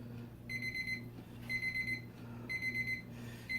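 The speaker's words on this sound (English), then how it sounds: "about the time I've got stuff all over my fingers is when the alarm goes off" An alarm clock rings in a kitchen during cooking, sounding in three evenly spaced bursts of bright electronic beeping about a second apart over a low steady hum, with no one talking.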